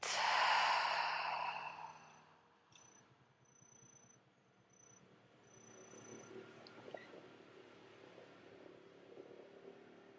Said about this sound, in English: Inhale through the nose. Exhale through the mouth.